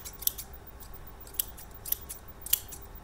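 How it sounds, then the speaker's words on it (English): Quiet sewing scissors opening and closing four times, each with a short bright metallic scrape of blades sliding against each other, separated by brief pauses. "there's a very sort of distinct sound when it's opening"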